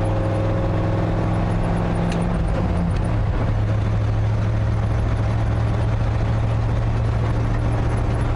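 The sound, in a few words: 460 engine ramp truck with ZF5 transmission revving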